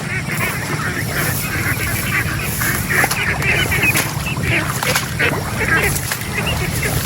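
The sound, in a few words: domestic ducks calling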